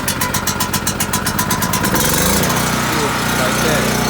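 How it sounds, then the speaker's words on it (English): A portable generator starts with a pull cord and runs loud and close, its engine chugging in fast pulses at first before settling into a steady, even drone. "Start my generator."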